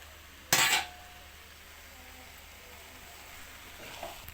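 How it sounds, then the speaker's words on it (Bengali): Chopped onion and chili go into a hot pan with a sharp, loud burst of sizzling that fades within a fraction of a second to a faint, steady frying hiss. "এর মধ্যে আমি এখন দিয়ে দেব পেঁয়াজ এবং মরিচের"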